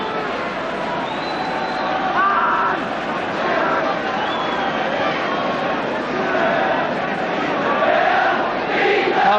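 A stadium crowd at a 1981 Celtic versus Hibs football match lets out a sustained, swelling roar of booing and jeering, loud and continuous throughout, with surges in intensity.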